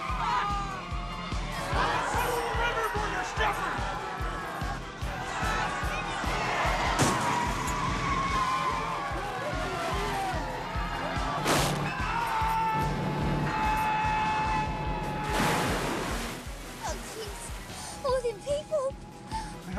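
Movie scene of a tourist bus plunging off a bridge into water: a dense, chaotic mix of engine roar, skidding, crashing impacts and screaming passengers, with shouting voices throughout and loud sharp bangs standing out.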